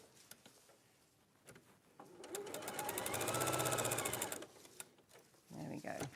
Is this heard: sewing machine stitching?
yes